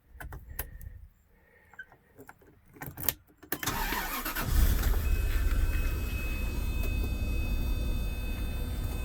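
A 1995 Bentley Continental R starts after a few clicks and clatters: the starter cranks briefly, then the engine catches and settles into a steady, close idle.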